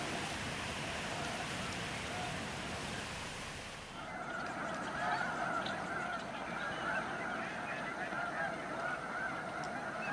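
Swans call in a winter wetland of the Sacramento Valley, a dense chorus of honking voices that swells after a soft rain-like hiss, continuous and somewhat distant.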